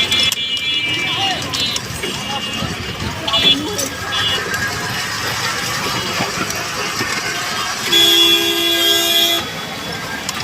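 Car horns honk amid a traffic jam on an Old Dhaka street, several short toots and one long sustained blast near the end, over constant engine rumble and street din.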